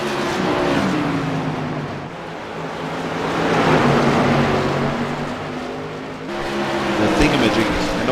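Race cars at New Smyrna Speedway head out on track for a short practice session, and their engines drone and rise and fall as they pass, with a rumbling roar swelling and fading under a steady crowd-like wash.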